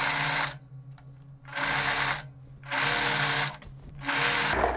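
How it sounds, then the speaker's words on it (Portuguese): Overlock sewing machine running in four steady bursts, chain-stitching the hem of a knit sportswear skirt back piece, each run a close, even whirring hum separated by short pauses. "Primeira coisa que eu vou fazer aqui é passar um chuliado na barra da peça das costas."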